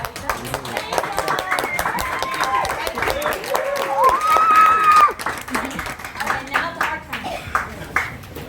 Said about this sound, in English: Now clap, clap, clap.